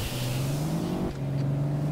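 A car engine in a snow drifting video game holds a steady, sustained revving drone at moderate loudness, dipping briefly in pitch midway before resuming, with no talk.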